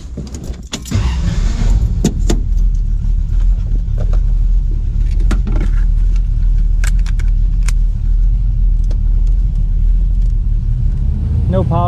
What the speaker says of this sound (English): All right, enough talking. Let's go driving.